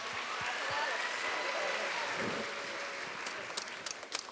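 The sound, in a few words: audience applause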